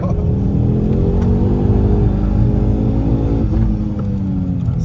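A Stage 2 Ford Focus RS engine roars loudly and steadily on the Charade race circuit, its pitch climbing as it accelerates, then briefly drops before building again.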